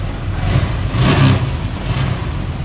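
A Honda Click 125 scooter engine runs steadily at idle, its low mechanical drone swelling slightly in a couple of brief surges, close and alone with no talking.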